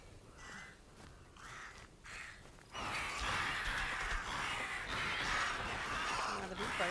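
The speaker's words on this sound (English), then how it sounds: "Are the big birds trying to eat me" Big birds caw in a video game, their harsh calls repeating in short bursts before a louder, noisier stretch of game sound, with a player's voice gasping and talking over it.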